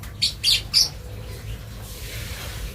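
Three quick, harsh squawks from a Fischer's lovebird close by, followed by quiet room noise.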